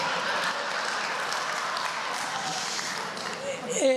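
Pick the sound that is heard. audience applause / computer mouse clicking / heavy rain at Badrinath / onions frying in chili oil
audience applause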